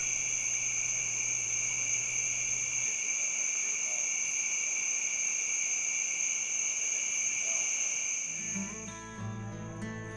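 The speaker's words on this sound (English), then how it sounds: "listening to the frogs and the crickets with a million lightning bugs around" Steady high-pitched night chorus of crickets at Clear Creek Campground near Jasper, Alabama, continuous and droning, with faint frog-like calls underneath; near the end the chorus drops away and other sounds take over.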